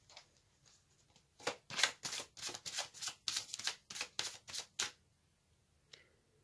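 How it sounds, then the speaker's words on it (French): Tarot cards being shuffled and drawn: a run of about a dozen quick, crisp riffling flicks close by, then a brief pause and one last soft snap, with quiet room tone around. "Je vais tirer une carte supplémentaire pour compléter cette énergie"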